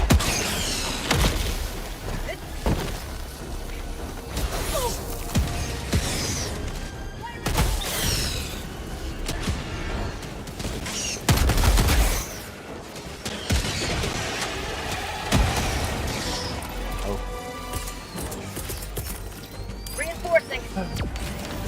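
Grenade launcher fire in the Helldivers video game, with repeated loud bursts and explosions amid clattering weapon mechanisms while someone talks over much of the action.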